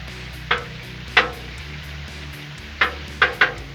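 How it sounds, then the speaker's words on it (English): Chorizo sizzles steadily on a Blackstone griddle beside peppers and onions, while about five sharp metal spatula chops ring out at irregular intervals, close and fairly loud over the constant frying hiss. "We got to get this chorizo going. Let's plop it on there. Kind of just chop it up."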